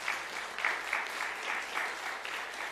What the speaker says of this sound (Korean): 다 같이 박수로 격려하겠습니다